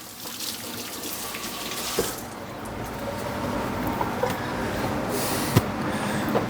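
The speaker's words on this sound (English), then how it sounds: "let's wash our hands real quick" Running sink tap with hands being washed under it, a steady splashing water stream with small clatters, close and continuous, without talk.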